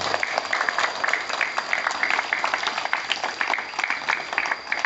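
Schoolchildren at a state elementary school applaud together after a prayer during a visit from soldiers: brisk, dense clapping from many hands that keeps going at an even level the whole time, with a faint tone running underneath.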